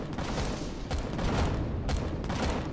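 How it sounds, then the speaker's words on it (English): Explosions rumble in the space survival game Empyrion, a dense, loud roar with several distinct bursts pulsing through a couple of seconds of continuous noise. "I heard something explode."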